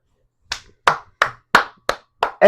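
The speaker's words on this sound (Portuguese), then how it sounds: "palmas para 2 pessoas" Seven slow, evenly spaced hand claps ring out sharply and close by, one person clapping alone for Martinelli, each clap distinct with silence between.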